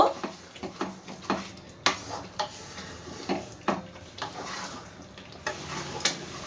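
A spoon scrapes and clicks in a pan as pointed gourd curry, a vegetarian dish topped with chopped coriander leaves, is stirred and mixed in irregular, close strokes.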